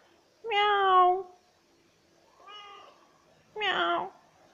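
A cat meows three times, the first and last calls loud and drawn out, the middle one softer and shorter, close by with quiet pauses between.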